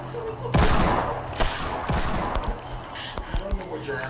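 Gunfire in a shooting video game: sharp, loud shots in quick bursts with rapid follow-up cracks, then lighter scattered pops, heard up close.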